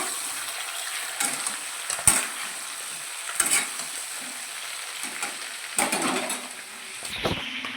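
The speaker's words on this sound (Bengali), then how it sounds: "এই যে পটল ভাজা হচ্ছে" Pointed gourd fries in a pan with steady oily sizzling, broken by occasional scraping stirs of a spatula, with no voices.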